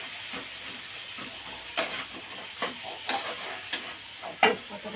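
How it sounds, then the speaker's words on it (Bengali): Food frying in a pan being stirred, a steady low sizzle with intermittent scraping strokes of a spoon against the pan, fairly close. "এই যে একটু নাড়াচাড়া করে নেবো"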